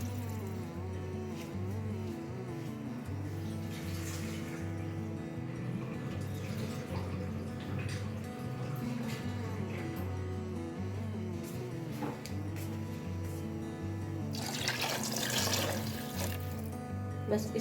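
Water poured into a pan of potato and pea curry to make the gravy, a steady liquid splashing and trickling that runs throughout, swelling louder near the end, with no talk over it.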